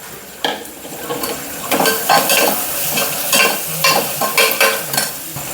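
Curry leaves and onion sauté in a pan for a tomato kurma, giving a steady close sizzle broken by repeated stirring scrapes and light clinks of a utensil against the pan.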